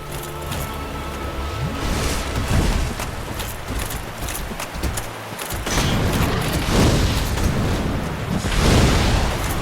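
In Dark Souls, a fire attack roars in loud, dense bursts of crackling flame and rumbling impacts, swelling and fading over several seconds of game noise.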